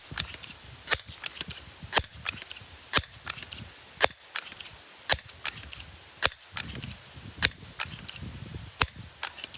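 Repeated sharp shots from a Crosman 1377 air pistol, a dozen or more crisp cracks at irregular, fairly quick intervals, close and loud over light background rustle.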